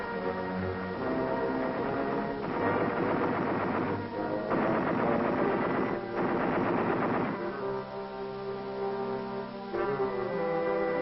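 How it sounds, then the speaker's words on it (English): Artillery shelling the garrison village of Shuri during the Battle of Okinawa, heavy bursts of booming fire and rattling blasts in loud waves over a continuous roar. "Artillery delivers heavy fire on the central strong point of the enemy's defense line"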